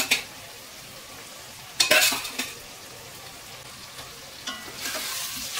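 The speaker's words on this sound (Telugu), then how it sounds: "ఇప్పుడు 2 నిమిషాల తర్వాత నేను మిక్స్ చేస్తున్నాను" Chili powder masala fries in oil and is stirred for a village-style egg curry, with a soft sizzle, a sudden louder burst of frying and scraping near the start, then lighter stirring sounds.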